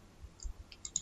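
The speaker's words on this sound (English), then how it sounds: "Click on download, right click, show in folder" A computer mouse clicks a few times in quick succession, close and soft, within about a second in a quiet room.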